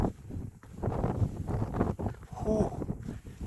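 Strong blizzard wind buffeting the microphone in deep snow in Victoria, Minnesota, a continuous loud roaring rush with gusty swells throughout.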